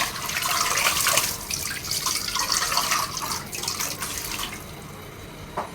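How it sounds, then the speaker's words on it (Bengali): Running tap water splashes and patters steadily over noodles in a sink, close by, thinning out toward the end with a few drips. "নুডলসটা একটু পানি দিয়ে ঠান্ডা করে নিলে ঝরঝরা থাকে।"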